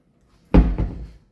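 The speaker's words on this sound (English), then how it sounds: "the bin, which is slide out from a drawer unit," A slide-out bin drawer in a kitchen drawer unit is pulled open nearby: one solid thunk, then a short rolling slide that settles into quiet.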